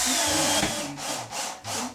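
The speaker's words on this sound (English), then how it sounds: "Instead of drilling all my holes, I just go ahead and put this screw in it." Screw driven into a wooden part of a Revolver 50cc ARF model airplane, a power driver whirring in short grinding bursts with brief pauses between, close and clear.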